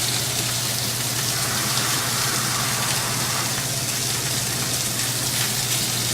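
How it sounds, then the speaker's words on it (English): Water is poured into a cooking pan, making a steady, close gushing hiss with a low hum underneath that continues without a break and with no talking. "Now we're going to put a little bit more water in the pan."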